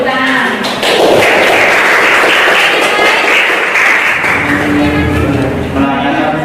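A school class breaks into applause, a loud, close burst of many hands clapping that swells and holds for several seconds, with some thumps and a voice speaking near the end.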